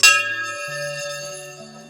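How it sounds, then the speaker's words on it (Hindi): A temple bell at Chitai Golu Devta Temple in Almora struck once, giving a bright metallic clang that rings on and slowly fades, close and fairly loud, with no speech. "यहाँ भी इसी तरह से they are millions of bells, uncountable bells"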